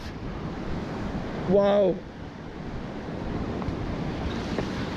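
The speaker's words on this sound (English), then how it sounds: "There's all the seawater's running underneath." Sea water surges and rushes around coastal rocks in a steady, loud roar of surf mixed with wind noise, while a person briefly exclaims once.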